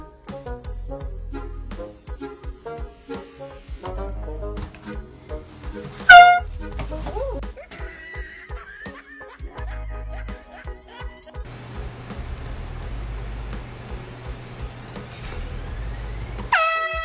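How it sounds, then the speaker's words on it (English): An air horn sounded as a prank: one loud blast stands out early, amid music and voices, with louder, noisier sound later on. "Air horn prank."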